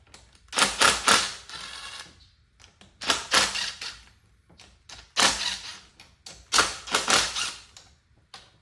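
Sharp ratcheting clicks from a wrench loosening 12mm bolts on a Mazda RX7 FC3S engine come in three separate bursts, each a quick run of close metallic ticks with short pauses between them, close up and without talk.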